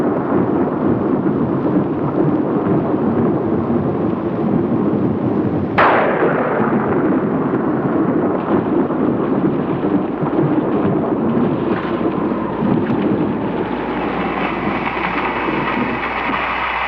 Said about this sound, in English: A violent storm containing winds of hurricane force is approaching Costa Buena.